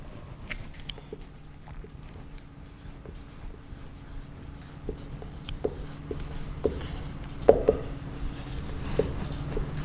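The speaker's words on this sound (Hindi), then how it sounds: "अगर मैं यहाँ पे लिख सकती हूँ" Writing on a board during a geometry lesson, with soft scattered strokes and taps spread through the clip under a steady room hiss, growing slightly busier toward the end; no talking.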